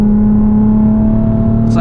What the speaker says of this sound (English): it's like I can full throttle right here. This is flat foot.